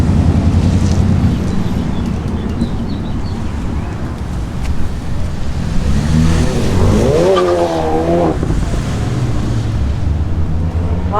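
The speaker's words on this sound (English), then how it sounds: "I'm gonna let the trucks go by here." Heavy road traffic, trucks among it, passes close by on a busy road: a loud, continuous roar of engines and tires with a rising whine from one vehicle near the end.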